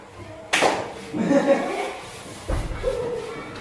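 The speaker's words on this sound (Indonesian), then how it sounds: "Tepuk 3." Classroom clapping game led by a teacher; a loud sharp clap, a burst of voices and laughter, then another clap, so the claps are mixed with talk.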